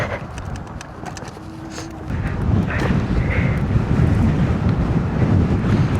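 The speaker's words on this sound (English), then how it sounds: "The wind is actually insane." Strong wind gusts roar and buffet continuously while cycling outdoors, a loud broadband rumble that grows stronger partway through, with no talk over it.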